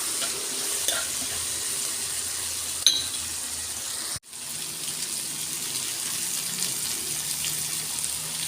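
Bitter gourd frying in a pan makes a steady, close sizzle and hiss, broken by a few clatters and a brief sharp cutoff partway through.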